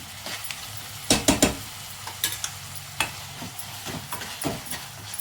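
A spoon stirs a bread mixture with soy sauce in a hot pan, producing soft sizzling and a few sharp scraping clanks against the metal at irregular intervals.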